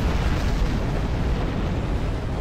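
Torpedo explosions in a Star Trek Online space battle, a continuous deep rumbling blast that fills the whole moment, heavy and loud without pause.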